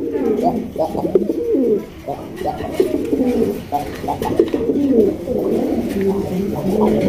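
Raj Golla pigeons cooing in repeated throaty phrases, close and fairly loud, with a few brief gaps between bursts.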